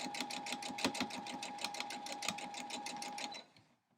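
Rapid, steady machine stitching as a sewing machine runs a seam across a quilt block for an 8-point star, a close, even mechanical chatter with a constant whine that stops abruptly near the end.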